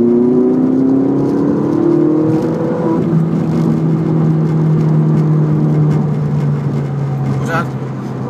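A Ferrari F458 engine drones steadily from inside the car during calm, gentle driving, its low tones rising and easing slightly with no hard revving, while people talk throughout.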